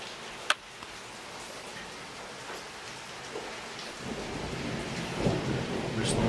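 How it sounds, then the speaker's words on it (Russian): Thunder rolling in after a lightning flash on a July night in Karelia, a low rumble that swells from about four seconds on over steady rain, with a sharp click near the start. "Блеснула молния. Спустя несколько секунд дошел звук."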